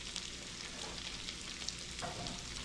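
Onions going into a pan of browned steak tips, giving a soft, continuous sizzle and frying crackle with light stirring, fairly quiet and close.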